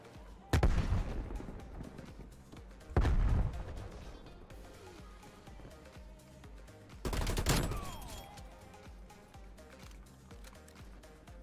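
Rifle fire in a Call of Duty: Black Ops Cold War multiplayer match, heard as three separate loud bursts of shots spread across the clip, with a quieter stretch of game ambience between them.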